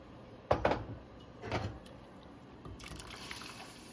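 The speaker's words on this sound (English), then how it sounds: "I added an additional 2 cups of water that I just pulled from my" Water poured from a container into a soup pot of chicken for homemade chicken noodle soup, arriving in a couple of splashy bursts and then settling into a steady, softer hiss of running liquid.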